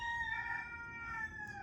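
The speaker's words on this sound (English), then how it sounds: "This rooster really loves to make a cameo in my videos." A farm rooster crows once, close and loud, a single drawn-out call with clear ringing harmonics lasting the whole moment and no voices over it.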